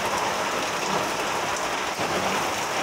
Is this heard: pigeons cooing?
no